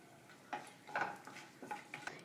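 Whole spices (bay leaf, star anise, cinnamon, cloves) frying in ghee in a kadai, with several quiet metallic clinks and scrapes of a ladle against the pan over soft background noise.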